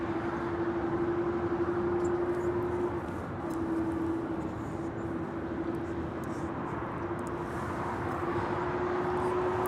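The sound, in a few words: JetBlue Airbus A321 aircraft at LAX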